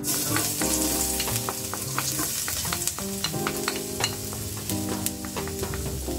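Garlic sautéing in a pan while making egg curry, with a steady, fairly loud sizzle throughout and occasional stirring clatter over a background of tonal music.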